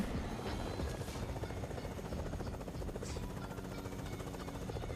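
A helicopter in the video game Fortnite drones steadily for the whole stretch as a loud, dense whir with a constant rotor roar and no talk over it.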